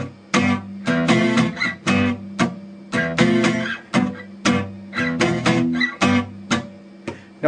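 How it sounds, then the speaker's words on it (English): Muffled acoustic guitar barre chord from fingers not pressing the strings hard enough, strummed about a dozen times in a steady, uneven rhythm; each strum is close, fairly loud and cut short with a dull, damped ring. "Now what you're doing is you're not pressing hard enough."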